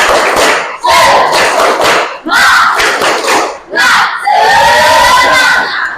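Students in a class loudly chant the 'tepuk semangat' clapping cheer together, rhythmic bursts of shouting and claps repeating in quick succession.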